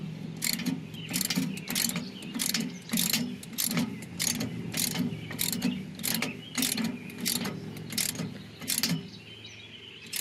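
A ratchet tightens a screw-in ground anchor bolt with a steady series of sharp clicking strokes, about a dozen close bursts in a regular rhythm, loud and near with no talk.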